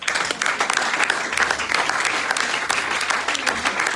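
A church congregation breaks into sustained applause, dense steady clapping from many hands filling the room with no pauses.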